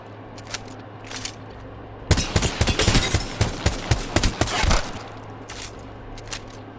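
Rapid bursts of G7 Scout rifle fire in a first-person shooter video game, a few seconds of closely spaced loud shots after quiet background ambience.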